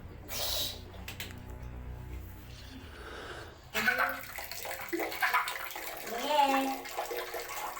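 Children playing with water, heard as splashing and running-water sounds that come and go for several seconds, mixed with children's voices and background game audio.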